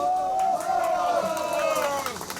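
Crowd of protesters chanting slogans in unison at a rally outside the National Intelligence Service, a sustained collective shout of voices that rises and holds steadily with no clear separate claps.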